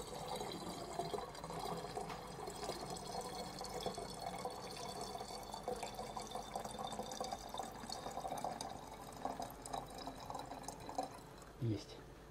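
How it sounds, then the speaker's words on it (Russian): Water is poured through a funnel into homemade limoncello liqueur, topping the batch up to two liters; a steady, continuous trickling and splashing runs close by for the whole stretch. "Мы берем и доводим общий объем вот этой водой, которая замечательно пахнет"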